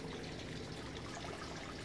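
Hydrogen peroxide is poured into water in one short, steady, close liquid trickle that lasts under two seconds, with no talk over it.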